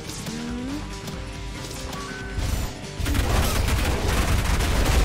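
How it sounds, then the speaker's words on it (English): A rail cannon fires in the fast-paced shooter game ULTRAKILL, with a sharp burst followed by dense crackling, booming gunfire and chaotic combat noise that swells louder toward the end. "Oh, the rail cannon!"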